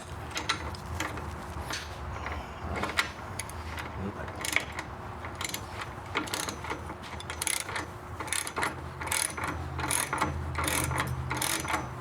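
A ratchet tightens bolts during the install of Rebel Performance bag guards on a 2022 Harley. It gives quiet, steady runs of close clicking with brief pauses, and faint talk now and then.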